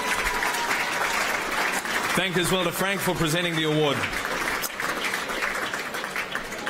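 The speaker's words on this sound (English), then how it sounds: "Ladies and gentlemen, please give a round of applause." Audience applause at an Australian football awards night, the 2018 Phelan Mostyn Medal, a steady roar of clapping from a large room that continues under someone speaking over a microphone.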